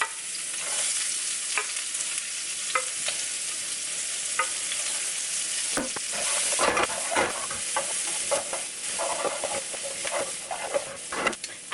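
Plenty of sliced onions sautéing in a pan, a dense continuous sizzle with frequent scraping stirs and clacks of a utensil, fairly close and with no talking.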